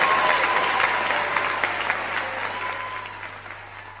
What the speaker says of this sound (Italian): Un applauso, gentilmente.